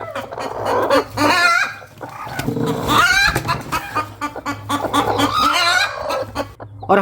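A hen clucks repeatedly nearby, short throaty calls in uneven bursts, with other fowl chattering in the background.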